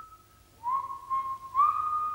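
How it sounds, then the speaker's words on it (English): A man whistles a short tune alone, a sustained clear tone that rises and holds across a few phrases, fairly close and steady. "Then John Archbold, now head of Standard Oil, started to whistle."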